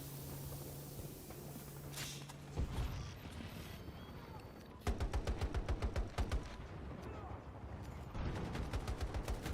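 Rapid machine-gun bursts and single shots ring out in a Battlefield firefight. The fire is loud and close, with long rhythmic automatic volleys in the second half, over a constant rumbling battle background.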